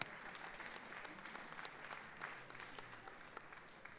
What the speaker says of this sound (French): Caroline, on vous applaudit